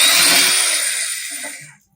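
A Makita power drill with a burnt-out bit boring 5/16 holes through heavy-duty material, a loud, close, steady high-pitched whine that winds down and stops after about two seconds.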